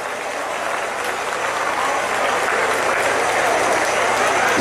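Crowd at a night jaripeo bull riding tournament applauding after a rider and bull are announced, a loud dense roar of clapping and cheering that holds steady throughout, with a low hum underneath.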